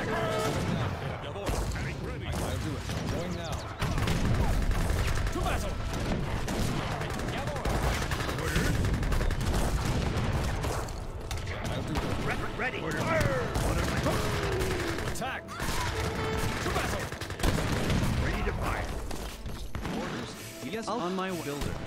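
Musket volleys crack in the strategy game Age of Empires 3, dense and repeated across the whole span, layered with battle clatter and overlapping unit voice calls.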